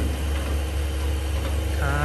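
A new black 2021 Range Rover Velar idling nearby, a steady low engine rumble with a firm humming drone and slight vibration, loud and constant throughout.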